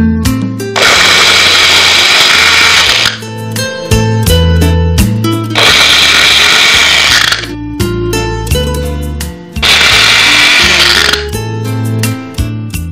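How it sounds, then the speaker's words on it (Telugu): A mixer grinder blends boiled figs and chopped dates into a paste in three loud, close bursts of a few seconds each, with whirring motor noise and short pauses between them, alongside background music. "బాయిల్ చేసుకున్న అంజీర్ అలాగే కట్ చేసి పెట్టుకున్న ఖర్జూరం కూడా మనం ఇప్పుడు మిక్సీ జార్లో వేసుకున్నాం. సో దీనిని పేస్ట్ చేసుకోవాలి."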